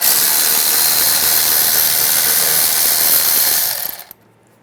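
A 14mm socket on a power tool spins out a rear caliper bolt on a 2012-2017 Toyota Camry, giving a loud, steady, hissing mechanical whir for about four seconds before it cuts off abruptly.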